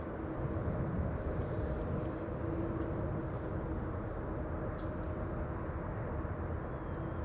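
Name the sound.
KLM Embraer E195 jet arriving at Amsterdam Schiphol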